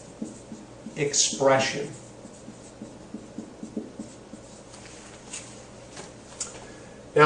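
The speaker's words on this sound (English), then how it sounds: "So let's go ahead and write DNA" The words DNA expression are handwritten during a biology lesson on cell organelles. Short scratchy writing strokes come in small bursts beneath a speaking voice.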